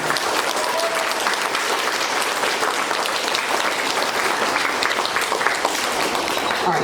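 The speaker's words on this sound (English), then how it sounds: "So big round of applause for October Grit and Gratitude." Dense, sustained applause from an audience at a school's Quarter 2 awards ceremony, loud and even for several seconds with faint voices mixed in.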